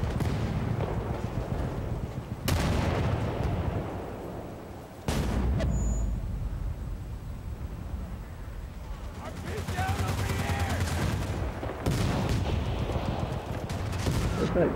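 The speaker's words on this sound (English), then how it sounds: "Where are all these explosions coming from?" Battlefield combat from the Bad Company 2 demo: sustained gunfire and heavy explosions boom in repeated loud bursts, with rolling blasts at intervals over a dense, continuous wash of battle noise.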